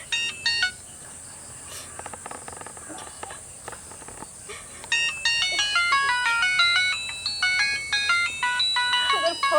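An electronic phone ringtone plays a bright beeping melody of quick repeated notes, faint and sparse at first, then louder and continuous in the second half.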